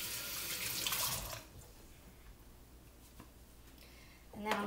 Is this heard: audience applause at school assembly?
no